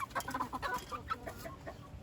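Chicks and hens in a coop make repeated short clucks and high peeps, fairly close and bunched toward the start, then quieter.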